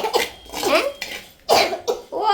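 Someone coughs several times in quick bursts at close range, loud and harsh, with a brief gap between fits.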